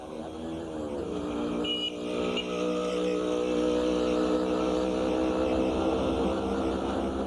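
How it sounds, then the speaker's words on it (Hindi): A car pulls out and drives off, its engine a steady, fairly loud rumble that keeps on with no break and no voices over it. "गाड़ी निकालो"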